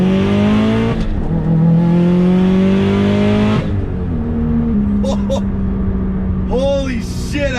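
A turbocharged 500 hp Subaru STI engine revs hard and climbs through the gears, loud and close from inside the cabin, with a voice speaking briefly over it.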